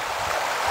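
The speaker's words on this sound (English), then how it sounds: "A lot of water coming over here." Floodwater at a park flowing over a levee in high spring water, a continuous broad rushing wash heard close and steady with no talk.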